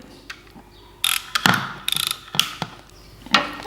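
Pliers grip and twist a bolt on a Recaro shell seat from a Ford Focus RS, giving a few close, sharp metallic clicks and ratcheting scrapes in short irregular bursts.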